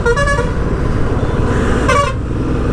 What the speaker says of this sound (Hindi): अरे भाई इतने गंदे गंदे हॉर्न।